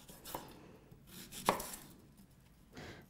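A knife cutting a Danish pear into wedges on a board, with three or four separate, quiet, crisp cuts and short pauses between them.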